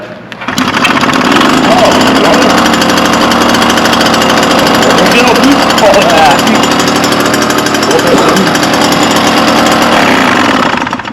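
A small Solex moped engine runs loud and close with a rapid buzzing rattle, steady for about ten seconds after starting, while people talk over it.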